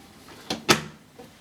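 On a Hoover Silent Energy bagged vacuum cleaner, the plastic door is pushed shut: a light knock followed by a firmer click-thud, close up, with a faint tap after.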